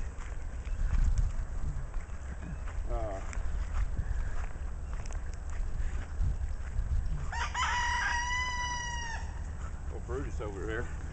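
A rooster crows once outdoors on a property with freshly mulched trees, a clear mid-distance cock-a-doodle-doo lasting about two seconds against steady wind and background rumble, with a few faint clucks around it.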